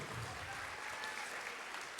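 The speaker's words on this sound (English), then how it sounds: "one more time, a nice round of applause for the fabulous Michael Ellen Harrison and the delicious and the delightful Julianne Johnson" An audience applauds performers at a drag show birthday celebration, a steady wash of clapping that sounds somewhat distant and quiet and stays even throughout.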